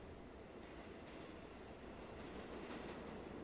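Subway train heading to the Port Authority, a constant dense rumble of the ride with wheel noise and a slight swell near the end, steady and without speech.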